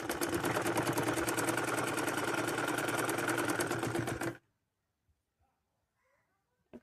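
A sewing machine runs steadily, stitching folded cloth for a blouse, a loud close mechanical whir with a fast rhythmic beat for about four seconds before cutting off to near silence.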